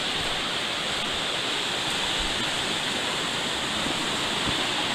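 Mountain stream tributary of the Gale River rushing nearby, a loud, steady broadband wash of flowing water with no pauses and no voices.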